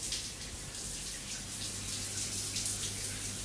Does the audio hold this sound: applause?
no